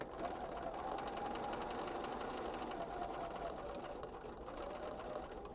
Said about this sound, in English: we're just going to stitch all the way down